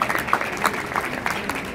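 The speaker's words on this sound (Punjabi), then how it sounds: "ਤਾਲੀਆਂ ਜ਼ੋਰਦਾਰ" Applause from an audience at an iftar gathering in Manchester, a brief patter of scattered clapping with uneven bursts, moderately loud and fairly close.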